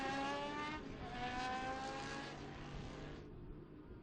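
Historic race cars at the Estoril Classics racing meeting, a loud engine roar passing close by, its pitch shifting as a car sweeps past and fades away.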